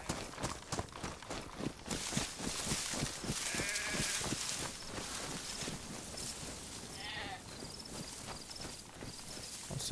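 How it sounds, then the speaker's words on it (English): Sheep bleat a few times in a video game over steady rhythmic thumping and background game noise, the calls brief and mid-distance. "Some sheep"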